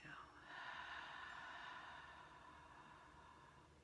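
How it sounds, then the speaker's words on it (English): A person exhales deeply during a guided breathing exercise, one long, soft, breathy rush of air that swells quickly and then slowly fades, faint and close with no talking over it. "Exhale."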